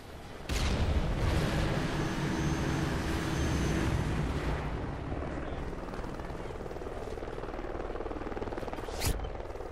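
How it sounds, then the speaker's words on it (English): Scout helicopter killstreak arriving in Call of Duty: a loud, steady rotor roar that swells in near the start and holds for several seconds, with a sharp blast near the end. "Helo scout on the way."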